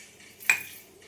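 A single clink of a spoon against a pan while cumin seeds are added to a dish for aloo samosa filling, a short, bright metallic tap in a quiet kitchen.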